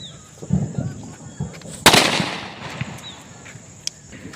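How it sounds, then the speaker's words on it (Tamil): A firecracker bursts inside a water can with one sharp, loud bang that leaves a lingering hiss, set among scattered crackles and pops of other fireworks nearby. "பார்த்தீங்கன்னா வாட்டர் கேனுக்குள்ளே வச்சு வெடிக்க போகிறோம்."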